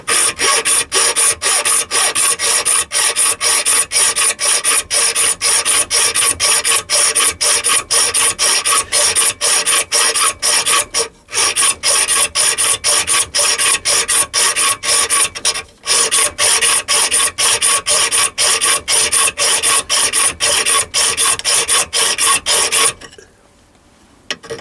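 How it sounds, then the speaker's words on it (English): A coarse round file rasps steadily into a brass bore, each loud, continuous stroke of grinding scrape running into the next with only two short pauses, then stopping abruptly near the end. "I then use a coarse round file and file down to the back face of the bore."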